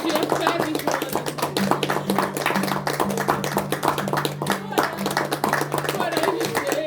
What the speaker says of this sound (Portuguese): Vamos aplaudir o Jonatas